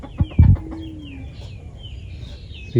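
Chicken, apparently a hill or jungle fowl, heard in a rural village setting; a couple of short, loud clucks near the start give way to quiet background with faint chirping and another burst at the end.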